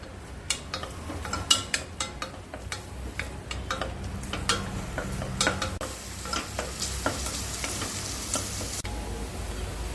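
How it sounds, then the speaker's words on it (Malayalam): Chopped onion and four or five cloves of garlic sautéing in a pan for mushroom risotto, a continuous close sizzle punctuated by regular sharp scrapes and taps of a spoon stirring, with no talk. "ഒരു സവാള ചെറുതായി മുറിച്ചതും ഒരു 4-5 അല്ലി വെളുത്തുള്ളി മുറിച്ചതും ചേർക്കുന്നുണ്ട്. ഇത് ഇളക്കി വഴറ്റാം."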